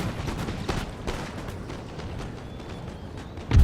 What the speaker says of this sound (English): who we can actually turn and fire our cannons on